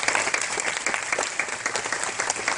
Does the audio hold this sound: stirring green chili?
no